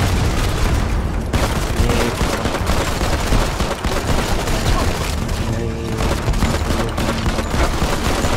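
Grenade blasts and a rocket launcher explosion in the mobile shooter Modern Combat 5, heavy booms layered with rapid gunfire, loud and dense throughout with brief dips between bursts.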